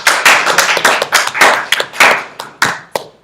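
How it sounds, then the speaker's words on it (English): A small group of people claps for Eddie at an introductory talk, loud and close, with sharp irregular hand claps that taper off toward the end. "everybody give Eddie a great round of applause"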